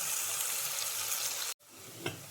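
Onions frying in a pan for a beef and raw plantain dish, a steady close hiss of sizzling oil that cuts out briefly near the end and resumes with a soft stir.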